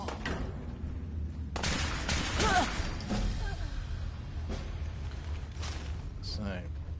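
Gunfire as raiders are shot in a PS4 video game, with a burst of shots near the middle over a steady game background and a few later sharp cracks, mixed with game voices and effects.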